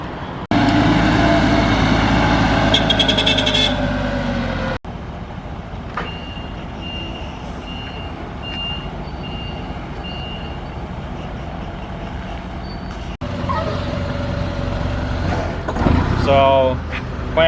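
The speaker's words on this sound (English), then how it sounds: "So now we're gonna move the trailer from here to the loading dock over here" A truck moving a trailer toward a loading dock sounds its reversing beeps as the engine idles, and people talk over the mix, with a cut to quieter steady road noise partway through.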